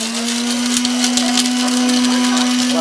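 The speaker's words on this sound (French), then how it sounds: "On mixe avec des feuilles de 4 épices et avec girofle" Kitchen blender whirring steadily as it grinds allspice (four-spice) leaves and cloves for a Réunion-style dish, a loud continuous motor drone with grainy chopping texture and no pauses.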